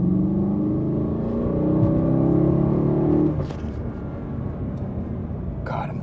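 A 2008 BMW M3 E92 engine revving hard through a third-gear pull, a loud droning rise that cuts off abruptly partway through and leaves a lower road and cabin rumble behind.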